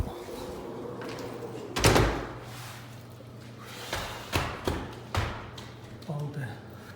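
A house door is opened and closed during a heavy Canadian snowstorm, giving a loud thump followed by a series of knocks and latch clatters over a low wind rumble, while someone talks.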